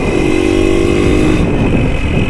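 An XR motorcycle rides along a freshly cemented bypass road in Barangay Bit-os, Butuan City, its engine droning steadily and loud close to the microphone, with a sustained mid-pitched hum and no talk.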